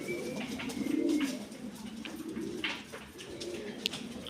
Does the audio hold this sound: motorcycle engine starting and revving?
no